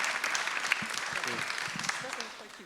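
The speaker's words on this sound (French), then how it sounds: "Je voulais pas d'applaudissements non plus." Applause from an audience at a panel discussion on small fabrication units, a steady wash of clapping with a voice speaking over it that trails off toward the end.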